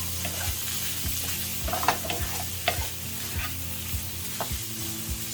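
Breakfast hash sizzling and frying in a pan, with a steady crackle broken by the scrape and clatter of stirring, close and moderately loud, with no talking.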